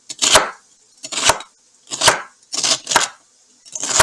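A knife chops potatoes into chunks on a cutting board with about six crisp, close, loud strikes, each roughly a second apart, and brief quiet gaps between them.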